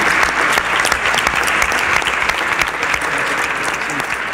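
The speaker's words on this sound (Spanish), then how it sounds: "un aplauso para todas y todos ustedes por la participación en este importante ejercicio" Audience applause at a university parliament event in the Mexican Senate chamber: dense, steady clapping from a large crowd, loud and continuous throughout.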